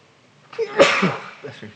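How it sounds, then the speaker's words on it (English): A single sharp sneeze bursts out close by, preceded by a short intake of breath and followed by a brief exhale. "Excuse me, I'm going to sneeze."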